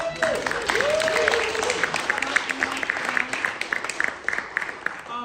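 Scattered clapping from a crowd rises under a speaking voice, with individual claps standing out toward the end.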